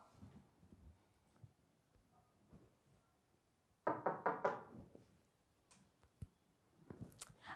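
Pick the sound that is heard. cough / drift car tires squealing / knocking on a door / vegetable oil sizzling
knocking on a door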